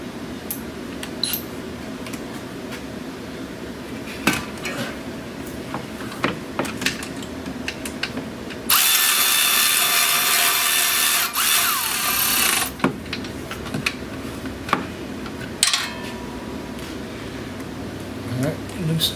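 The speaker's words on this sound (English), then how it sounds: "Of course, we're going to run that bolt up." A power tool runs a bolt up on a 2011 Kia Soul alternator, a steady whirring burst of about four seconds amid clinks of tools and someone talking.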